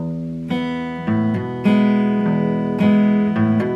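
Solo acoustic guitar plays an alternating bass pattern with hammer-ons on the second string between plucks, a steady rhythmic picking figure, close and clear.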